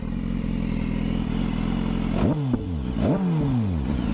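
A 2015 BMW S1000RR sport bike's exhaust revs hard twice in quick succession, rising and falling over a loud steady idle, close by.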